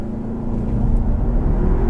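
A 2015 Audi A3 in sport mode with traction control off revs its engine, a steady low droning hum that builds slightly in level over two seconds, heard from inside the car.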